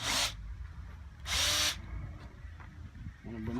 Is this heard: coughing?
no